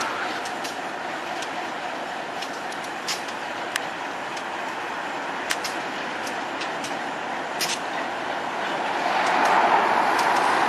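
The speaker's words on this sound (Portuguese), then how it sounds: "dessa locomotiva aqui que está levando esse trem de calcário" An EMAC MX locomotive hauls a limestone train at Barbará, a steady distant rolling rumble with faint intermittent metallic clicks and clanks from the wagons.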